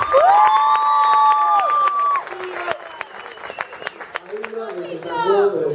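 An audience at a graduation awards party claps and cheers, with shouts and whoops rising over a crowd of voices, then scattered clapping under ongoing chatter.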